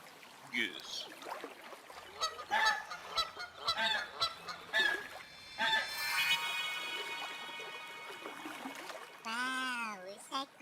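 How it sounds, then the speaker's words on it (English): A goose honks loudly and close in a long run of harsh calls, with a sustained blaring note and a final drawn-out honk, no speech over it. "Goose."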